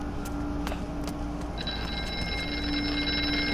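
Telephones ringing in a video game, a steady electronic ring over dense background noise, joined midway by a second higher tone.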